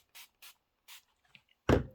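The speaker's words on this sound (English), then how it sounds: "I'm going to give it a little shot of spray." Three short, airy spritzes from a spray bottle mist quilting fabric before pressing, each a quick hiss with a pause between, followed by a louder thump near the end.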